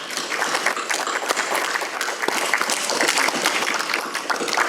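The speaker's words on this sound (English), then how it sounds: "I hope there will be many more rounds of applause for this truly amazing achievement" Applause at a dinner celebration marking fifty years at a university campus, a dense, steady round of clapping from a room of guests that fills the whole stretch without pause.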